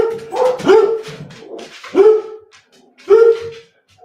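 Dogs bark nearby in three clear bursts, each a sharp, loud yap or woof, with short pauses between them and a small whine after the first.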